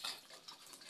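A spoon stirs chicken biryani with yogurt in a pot, a short, soft scrape-and-swish close by with faint sizzling underneath.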